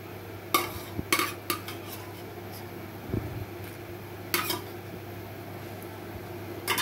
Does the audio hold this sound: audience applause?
no